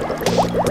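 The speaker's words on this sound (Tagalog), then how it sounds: "yung one raw egg, ilalagay natin siya ngayon sa isang basong tubig" Raw egg dropped into a glass of water gives a brief liquid gurgle with a few quick bubbly, rising plops, close and fairly soft, lasting under a second.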